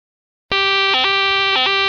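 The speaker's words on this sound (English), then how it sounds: "It's the fire alarm that Caillou did." A school fire alarm rings loud and steady after a brief silence, a harsh buzzing electronic tone that dips in pitch twice in a repeating pattern.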